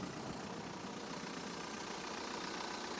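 A diesel car engine runs steadily after a jump start, a faint continuous idle hum with no voices.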